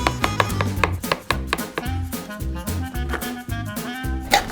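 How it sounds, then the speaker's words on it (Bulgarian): Onion, mushrooms and peppers being chopped with a knife, steady rhythmic chops striking a board, with music playing underneath throughout. "Нарязвам лука,"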